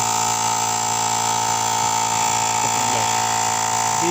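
Built-in air compressor of a Jump Starter T700 inflating a car tyre, a loud, steady mechanical drone with a strong tonal whine, running continuously up close without pauses or voices.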